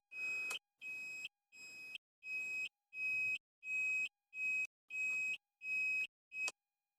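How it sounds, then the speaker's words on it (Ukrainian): A Viper V150A scooter's turn signal gives a steady series of ten short electronic beeps at an even pace, high-pitched and clear, with nothing else heard. "поворотник цоколь, і тепер в мене видається звук під час поворотів"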